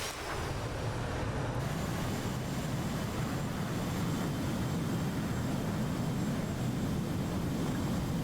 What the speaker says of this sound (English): And that's a Hornet landing if I've ever seen one